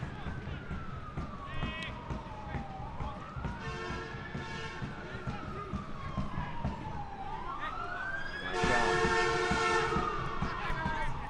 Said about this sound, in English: A loud honking horn.